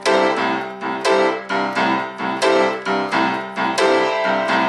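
A boogie woogie piano riff is played with straight, unpushed notes: loud, clear repeated chords in a steady, even rhythm, with no one talking.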